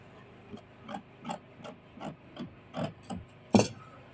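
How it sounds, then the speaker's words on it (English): Scissors cut out a fabric dress pocket in about ten crisp, evenly spaced snips, each a short crunching slice, close and fairly quiet, with the last cut sharper and louder. "Okay, so I'm cutting out my pocket."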